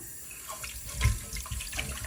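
Tap water runs steadily into a pot of potatoes set for parboiling in a home kitchen, a close, splashing stream that swells briefly near the middle and continues alone without talk.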